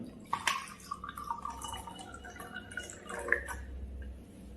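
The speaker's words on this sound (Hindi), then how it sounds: "ये जो पैक ड्रिंकिंग वाटर है ना, ये मैं इस ग्लास में डालता हूं" Bottled packaged drinking water poured into a drinking glass, heard as a short splash and dribble of liquid near the start, then faint trickling and drips over steady background noise, with no talk.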